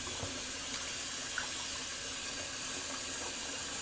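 Tap water runs steadily into a bathroom sink, a quiet continuous hiss and splash with no voices, heard during a wet shave.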